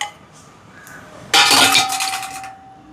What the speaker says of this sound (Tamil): இறாலை சேர்ப்போம்.